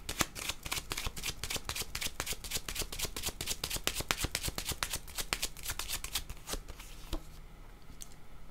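A deck of cards is shuffled up close in a long run of crisp, rapid flicks and riffles that carries on steadily for several seconds before thinning out.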